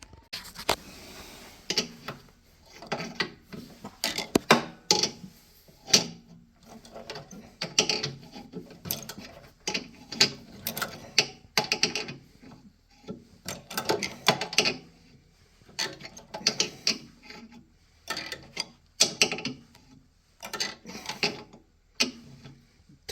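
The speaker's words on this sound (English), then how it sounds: "So I'm going to put the drain plug back on and drain cap, and then we'll go from there." An Ariens 28 Deluxe SHO snowblower's pipe-threaded drain plug and drain cap are screwed back on, producing a series of close, irregular metallic clicks and ratcheting taps in short bursts with brief pauses, and no talking.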